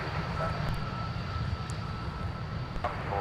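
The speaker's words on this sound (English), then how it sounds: "Delta 117 Heavy, now in final approach with the A330-900." A Delta Airbus A330-900 on final approach to Minneapolis–St. Paul airport gives off a steady, moderately loud jet engine roar that holds constant throughout.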